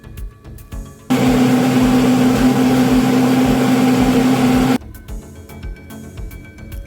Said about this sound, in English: So I'm gonna blend it now.